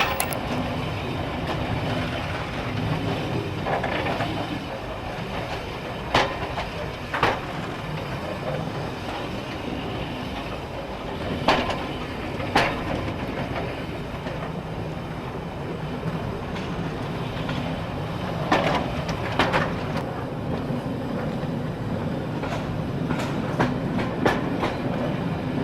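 A heritage train rides the Battlefield Line railway between Shackerstone and Shenton. The onboard rumble is constant, with a rhythmic clickety-clack of wheels over rail joints recurring throughout and no voices.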